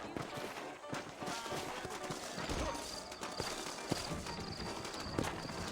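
Saddled horses clip-clop along in Red Dead Redemption on PS5, with hoof beats in a loose running rhythm over a busy background of ambient game sound.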